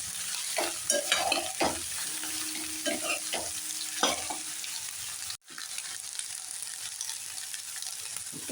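Chana dal and green chillies fry in oil in a pan, with a continuous sizzle broken by scraping stirs and clinks in the first half. Near the middle there is a brief dropout, then the sizzle carries on alone.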